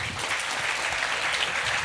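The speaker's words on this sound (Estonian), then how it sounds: "suur tänu ja aplaus Paavole" Audience applause after an investment strategy talk, a dense, even wash of clapping throughout with no speech over it.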